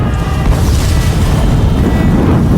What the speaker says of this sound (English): There's an explosion somewhere